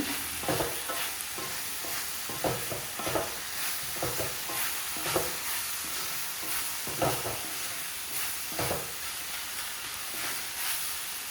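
A spoon stirs a dried shrimp mixture seasoned with salt in a hot pan, giving steady rhythmic scrapes over a continuous frying sizzle, close and clear, with no talking.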